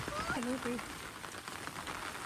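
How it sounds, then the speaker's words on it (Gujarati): Heavy rain falls during a hill climb near Ghumli on Barda hill, a steady, fairly soft hiss throughout, with a brief tonal voice-like sound near the start. "વરસાદ બહુ જોરદાર આવે છે"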